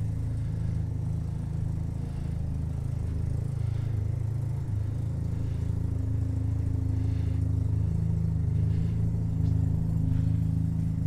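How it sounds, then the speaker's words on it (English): A heavily modified 1996 BMW Z3 with a rotary engine idles steadily at a Japanese car auction, a smooth buzzing drone held close and loud throughout. "Gotta love the rotary sound."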